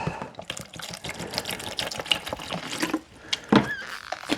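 Tap water pouring into a bucket, a splashy, bubbling stream of filling water with a few clinks and knocks, moderately close and fairly quiet.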